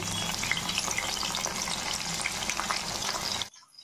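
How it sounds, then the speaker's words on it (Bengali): Okra fries in about three spoons of mustard oil over a low gas flame, a close, continuous crackling sizzle that holds steady and then cuts off abruptly near the end. "3 চামচ সরষের তেলের মধ্যে ভেজে নিচ্ছি, আর গ্যাসের ফ্লেমটি একদম লো করে রাখা আছে।"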